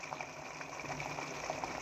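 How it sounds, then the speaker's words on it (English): Water poured into a pot of egusi soup, a faint steady gushing and bubbling of liquid filling the pot, continuous and close, with no talk. "we are going to add more water for the egusi to done very well"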